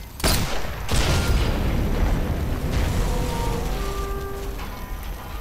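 A loud, rumbling explosion boom in the video game Sniper Elite 4, followed by a long roaring, crackling tail of debris and noise that slowly fades, with a faint tone near the end.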